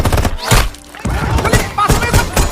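Gunfight in an action film about a rescue team on a terrorist island: loud, dense bursts of heavy thudding impacts and shots, packed close together across the whole stretch with brief lulls.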